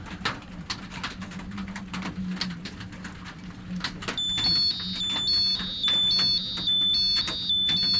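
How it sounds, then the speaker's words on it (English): An old boat depth finder sounds its shallow-water alarm, a repeated high electronic beeping that starts partway through and then continues steadily over a constant low hum and scattered clicks. "shallow alarm. It never did that before, so the transducer seems to be working."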